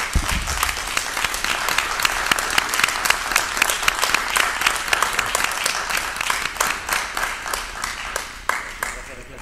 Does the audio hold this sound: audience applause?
yes